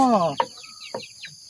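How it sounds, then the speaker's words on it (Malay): Chickens in a backyard coop give a few short clucks and chirpy calls, spaced irregularly and fairly close, following a brief burst of a voice at the start. "mari kita tengok ayam ni"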